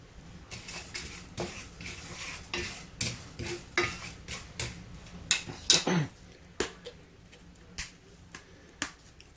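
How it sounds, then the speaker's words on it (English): Pumpkin seeds roast in a cast iron pan on the stove, with sharp, crackling pops and clicks at irregular intervals. The pops are close and distinct over a quiet background. "I'm going to roast the pumpkin seeds on some cast iron."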